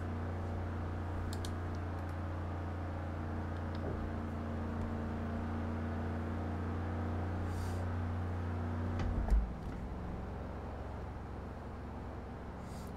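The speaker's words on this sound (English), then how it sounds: "And yet again, my car sounds quiet." A car engine drones steadily while driving in Forza Horizon 3, quiet and even with a low hum, dropping off near the end after a brief bump.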